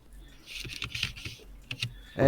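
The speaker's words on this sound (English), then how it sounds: "we can all hear your keyboard" Soft, irregular clicking of keys on a computer keyboard patters in the background during a livestream, fairly faint, ending as a voice cuts in.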